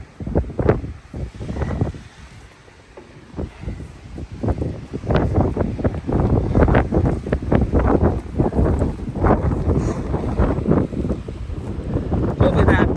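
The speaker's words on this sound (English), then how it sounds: "You can barely hold the phone, it's so windy" Strong wind roars and buffets the microphone in constant gusts, with a voice speaking faintly through the rumbling blasts.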